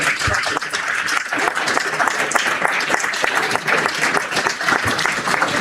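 A conference audience applauds an ambassador stepping forward to be honoured, a thick, continuous wash of many hands clapping at steady loudness throughout, with a faint murmur of voices beneath.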